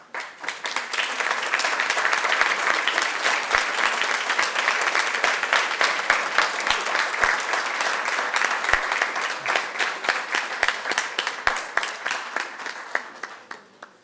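An audience at a community event applauds as learning-community students and their families stand to be honoured; dense, sustained clapping fills about fourteen seconds, swelling quickly and fading near the end.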